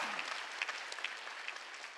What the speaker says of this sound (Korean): 두 손에 박수 치라고